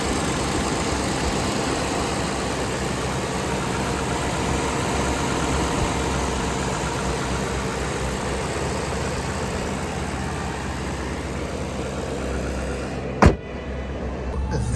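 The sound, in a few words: Maserati Quattroporte engine idling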